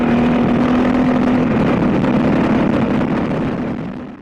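Adventure motorcycle ridden fast on a ride in Portugal, a loud steady engine drone mixed with rushing wind noise, holding a constant pitch before slowly fading.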